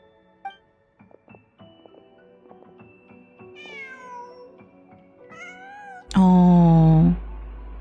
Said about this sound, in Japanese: なんだ、猫かい。